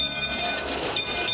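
Little Prince miniature train running on rails in Prince George, British Columbia, a close rumbling roll with faint metallic ringing tones and a soft clatter under a steady hum.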